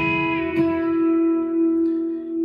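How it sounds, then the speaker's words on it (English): An electric guitar fitted with a B-bender plays a lick, one ringing, sustained note with a slight pitch bend near its start, clear and alone without voices. "we are taking the bender up and down. Sounds like this."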